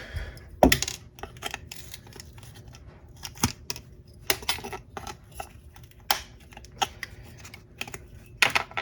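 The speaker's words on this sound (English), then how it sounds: "Take out the metal pegs." A wooden mouse trap being taken apart by hand as its metal pegs come out, with irregular small clicks, taps and scrapes, close and fairly quiet, with no voices.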